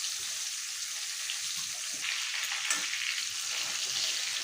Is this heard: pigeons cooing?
no